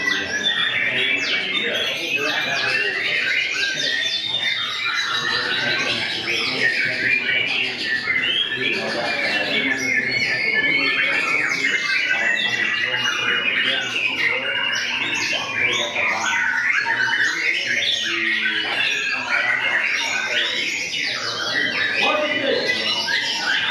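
A white-rumped shama (murai batu) sings continuously at a bird song contest, with rapid varied whistles and chirps amid the busy chatter of other birds and people at the arena.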